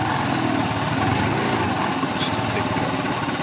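A Yamaha BWS Zuma 125 scooter engine, fitted with Forceworks fuel management, runs close and loud with a steady buzzing drone. A faint voice may sit under the noise.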